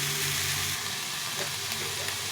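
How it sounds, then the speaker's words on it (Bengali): Beto shaak leafy greens frying in a pan, a dense, even hiss of sizzling oil lasting a couple of seconds with faint stirring underneath. "এরকম করে শাকটাকে ভেজে নিতে হবে"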